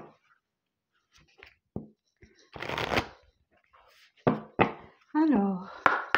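Oracle cards from a lunology deck being shuffled in several short papery bursts, one longer riffle in the middle, with someone speaking French in between.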